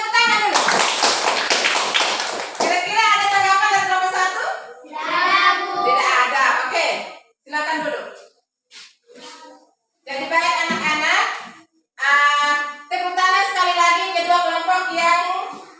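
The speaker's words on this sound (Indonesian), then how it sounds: "Ya, kita berikan tepuk tangan dulu." A classroom of children clapping their hands together in dense, loud bursts of applause, with children's voices and a teacher talking around and between the rounds of clapping.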